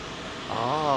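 A heavy airliner touching down on Heathrow runway 27L, a broad steady engine roar that swells and gains a wavering, sweeping tone in the second half.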